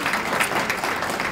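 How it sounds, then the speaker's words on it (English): Audience applause at a legislative summit breakfast, a steady burst of clapping from a room of attendees that fills the short moment alone, with no talk over it. "I also want to give Donna and Ted a round of applause."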